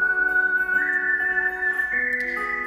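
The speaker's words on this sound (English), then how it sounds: "It's that little high-pitched sine wave right there." Whistle-like synth keyboard solo from a live show, a thin high sine-wave lead gliding between sustained pitches over soft steady chords and ambient crowd noise.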